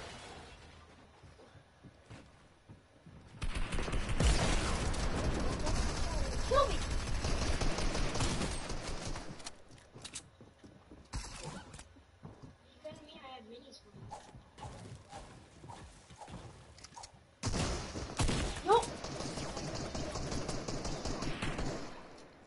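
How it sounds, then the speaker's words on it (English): Bursts of rapid gunfire, sustained volleys with brief pauses, loud and close, mixed with scattered clicks and cracks between the firing. "Oh, I hear the gunshot bombs."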